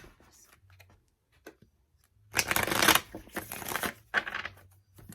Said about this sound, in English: Get one more shuffle.